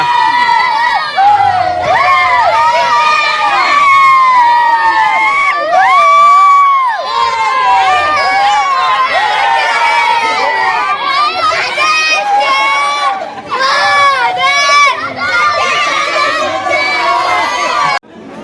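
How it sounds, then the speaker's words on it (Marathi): A large village crowd cheers at a Holi pole raising in Jamsande, with loud, continuous shouting, whooping and children's cries that rise and fall throughout. "तर मित्रांनो गर्दी तुम्ही बघताच एक नंबर जबरदस्त गर्दी आहे"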